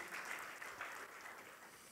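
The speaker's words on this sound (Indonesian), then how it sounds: "Boleh berikan tepuk tangan buat Tuhan Yesus." A church congregation at a Sunday worship service applauds together, a steady wash of clapping from many hands in a large room, fairly distant and even throughout.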